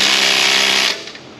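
A quarter-inch drive impact gun buzzes loudly and steadily while tightening an exhaust nut on a Silverado, then cuts off abruptly, leaving faint clicks.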